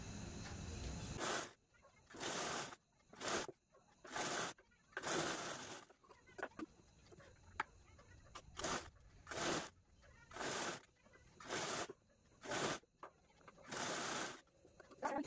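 A sewing machine stitches piping onto a cloth floor mat made from leftover fabric, running in repeated short bursts with brief pauses between them, close and fairly loud over quiet room noise.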